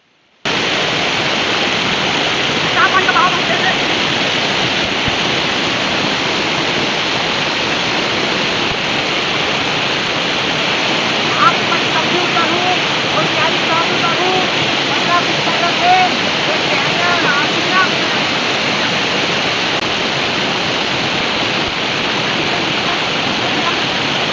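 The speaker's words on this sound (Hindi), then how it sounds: "पानी के बहाव इतना तेज हवे कि मोर पैर ला भी फेंक देते यहाँ" Strong, fast-flowing water rushes steadily and loudly over rocks along a steep stream descent, a dense continuous roar filling the whole stretch without pause.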